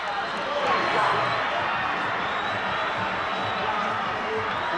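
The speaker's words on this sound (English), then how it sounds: "Listen to the crowd." A big crowd at a soccer match roars and cheers steadily after a win, a loud, unbroken wash of voices filling the whole stretch.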